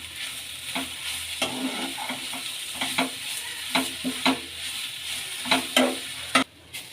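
A potato mixture for a gram-flour snack fries and is stirred in a pan, a constant sizzle under repeated scraping strokes of a spoon against the pan, close and alone.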